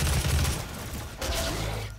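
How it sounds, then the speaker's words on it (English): Micro missiles fired in the DOOM video game: a dense, booming burst of rapid blasts, a short lull, then another rumbling volley, loud and close. "I just wanna test those micro missiles out"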